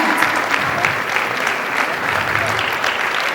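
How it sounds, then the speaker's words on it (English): An audience at an International Yoga Day celebration in Chicagoland gives a big round of applause for the event's volunteers, a steady dense clapping that lasts the whole clip. "let's give them a big round of applause"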